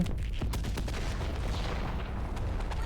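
Rapid gunfire in the zombie shooter World War Z, set in a stadium under a zombie assault: dense, continuous bursts of shots with booming low thuds, loud and close, no voices.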